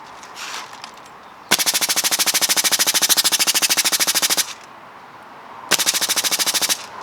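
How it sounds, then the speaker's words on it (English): An HPA airsoft gun fires on full auto: a loud, rapid, even-paced burst of about three seconds, a brief pause, then a shorter second burst that cuts off abruptly. "So in full auto, it'll shoot one, and then it won't shoot anymore. It'll still do the action of opening, closing."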